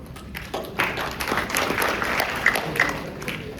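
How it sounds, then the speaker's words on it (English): School audience at a candidate speech event giving a burst of clapping, a short, moderately loud round of applause from a room of people with some crowd murmur. "we will give 3 big claps"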